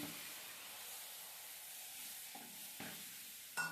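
Milk being stirred continuously into fried cornflour in a pan, a soft steady sizzle and hiss with a few brief scraping stirs near the end, close and quiet, no voices.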